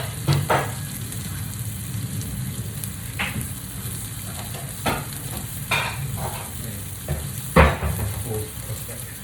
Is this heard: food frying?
yes